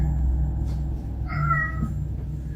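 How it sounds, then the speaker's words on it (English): A house cat gives a single drawn-out meow at moderate distance, heard over a steady low hum in a quiet room. "My cat just keeps walking around meowing"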